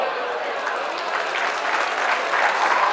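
Sustained applause from a crowd at a reception during a marksmen's guild festival, steady clapping of many hands that swells slightly toward the end, with a faint murmur of voices beneath.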